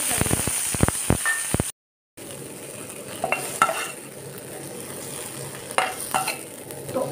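Tomatoes fry in a pan for a dhaba-style cheese tomato dish, opening with a run of sharp stirring clicks, then a short silence before a steady, soft sizzle with occasional scrapes.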